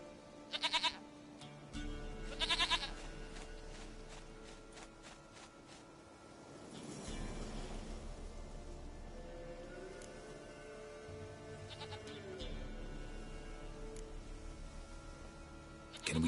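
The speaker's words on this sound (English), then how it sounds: "Goat of mine, dearest, sweetest goat." Goats bleat in The Witcher video game: two short, sharp bleats close together near the start, then a quieter ambient bed with faint distant calls and no talking.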